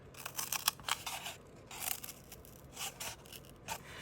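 Scissors snipping through cardboard while a kumihimo bracelet disc is being made, a quick series of close, crisp cuts and crunches in irregular bursts, with no talking.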